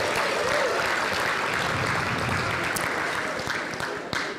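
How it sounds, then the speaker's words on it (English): Audience at a travel and tourism industry awards ceremony clapping for a prize winner, steady broad applause from a large room that thins toward the end with a few louder claps. "How about a round of applause for Delta Airlines and Meg,"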